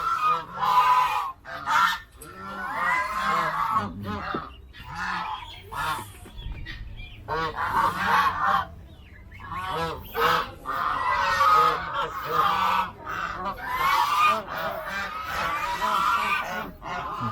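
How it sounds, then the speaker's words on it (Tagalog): Ducks and geese at an animal farm honk and quack in repeated nasal bursts, several birds calling close by in an uneven, overlapping rhythm throughout. "Mga bibe."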